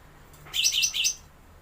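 A caged kutilang, or sooty-headed bulbul, gives one short, lively warbling phrase of about half a second, close and clear against a quiet low background hum.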